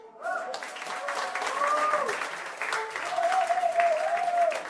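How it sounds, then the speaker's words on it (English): Steady applause from a crowd fills the space, with a voice talking over it and a few whistles or tonal sounds rising above the clapping. "Can we get a big round of applause for our founders, Charlotte Brown and Harper Lee?"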